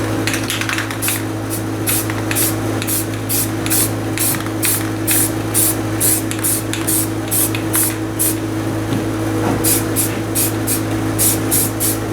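Spray paint hisses in a rapid run of short, loud bursts while a grain grinder gets coated, with a steady low mechanical hum underneath, a brief pause, then more quick spray bursts.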